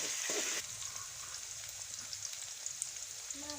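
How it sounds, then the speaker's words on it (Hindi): Two medium chopped onions frying in a pan, a quiet even crackling sizzle after a brief louder burst at the start, with faint small clinks here and there. "अब हम इसमें 2 मीडियम साइज़ की कटी हुई प्याज डालेंगे।"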